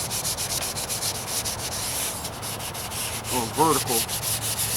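Wet sanding of rattle-can white paint on a 1998 Toyota Corolla hood, a steady close-up rubbing hiss in even back-and-forth strokes, with someone talking briefly over it.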